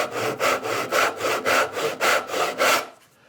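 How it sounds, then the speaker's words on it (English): A hand saw cuts wood with a knife wall, the guide line scored across the grain, in about nine steady rhythmic strokes, close and clear, before stopping in near silence. "Now if I go, I can slip my saw right up against that knife wall."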